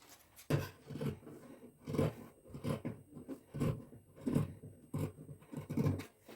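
Scissors cut through fabric for a child's dress in a steady rhythm of close, loud crunching snips, about a dozen in all, with no talk.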